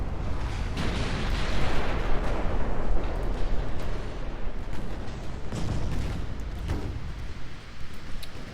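Naval gunfire and shell explosions in the Ultimate Admiral Dreadnoughts game, a battleship under heavy fire near Okinawa; a dense, continuous roar of overlapping booms and blasts, loud and sustained, with no talking.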